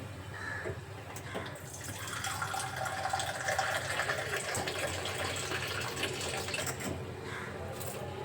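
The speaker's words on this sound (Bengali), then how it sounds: "এখান থেকে অ্যাকোয়াগার্ডের জল ভরে নেই" Water running from an Aquaguard purifier tap into a container in a home kitchen, a steady continuous pour with a faint whirring hum underneath, close and moderately loud throughout with no talking.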